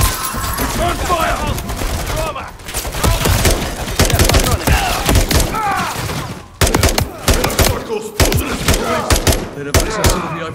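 Rapid automatic gunfire and heavy bursts from the Call of Duty: Modern Warfare III story campaign, loud and dense with shattering impacts, under urgent shouted voices.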